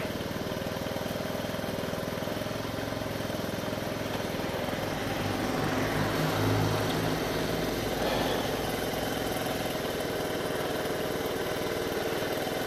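A 125 DR motorcycle engine idling nearby, a steady, rough mid-pitched putter that holds constant for the whole stretch, with no voices over it.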